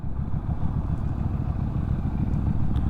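Benda motorcycle, a light and nimble small bike, running steadily while riding, a continuous low engine drone with a faint rattling texture throughout and no talking.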